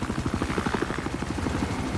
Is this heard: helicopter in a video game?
yes